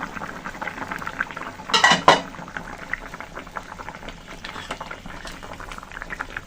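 Rohu fish curry with potatoes bubbles gently in a pot, a soft, steady simmer broken near the middle by a brief metallic clatter as the lid is lifted, then quiet bubbling again.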